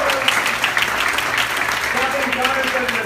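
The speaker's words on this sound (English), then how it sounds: "Krista Burton, give her a round of applause." At a campaign event for a congressman in Bethesda, a room of supporters claps in a steady round of applause, with voices chattering faintly underneath.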